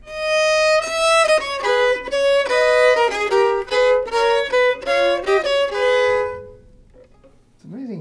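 Solo violin plays two Bach themes at once on separate strings, a busy run of double-stopped bowed notes lasting several seconds, close and bright, then fading into a brief quiet tail.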